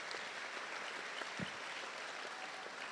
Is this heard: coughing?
no